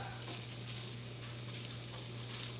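Andouille sausage browns in a hot pan, giving a steady, soft sizzle and crackle with occasional faint stirring, no talking.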